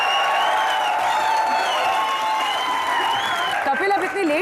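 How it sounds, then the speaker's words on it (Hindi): A comedy show studio audience applauds the arrival of Ajay Devgn and Kareena Kapoor, the clapping and cheering blending with loud tonal music and some voices near the end. "एक बार अजय देवगन और करीना कपूर के लिए जोरदार तालियां"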